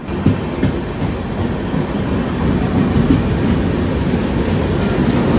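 A passenger train at Chennai Central railway station rumbles past close by, a steady loud roar of wheels and carriages with faint rhythmic clatter throughout.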